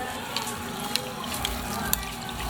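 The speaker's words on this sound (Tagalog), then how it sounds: "Tapos, lalagay na po natin itong marinade. Mix po natin. Tapos, buhos po natin." Marinade splashes over chicken quarter legs for barbecue, a continuous wet pouring wash with a few sharp liquid plops and splats scattered across the short stretch, close and fairly loud.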